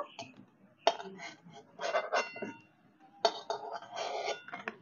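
Fried raw banana pieces are lifted from a pan one by one, with sharp metallic clinks of a utensil against cookware coming in short separated bursts, close and moderately loud.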